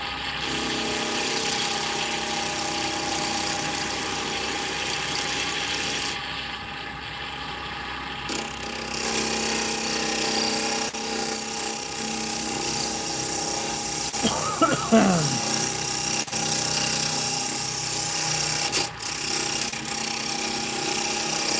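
Skew chisel cutting wood on a spinning lathe, a continuous loud close scraping hiss over motor hum that briefly drops out midway and then resumes, with occasional clicks.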